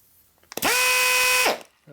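An air grinder turned down to a lower setting on its variable-speed control spins up sharply, holds a steady high whine for nearly a second, then cuts off abruptly. The sound is close and loud.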